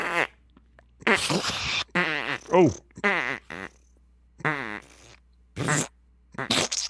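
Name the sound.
farting noises imitated with the mouth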